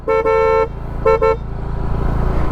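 A loud, shrill aftermarket horn on a TVS Jupiter scooter honks twice, a long blast then a shorter double beep, over an idling engine.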